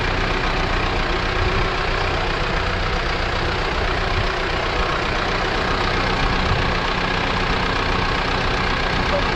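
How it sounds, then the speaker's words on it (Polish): Steady, continuous idling of a heavy Ursus 904 Turbo tractor engine, a constant low rumble and clatter with no change in pace. "Jeżdżę ten traktor."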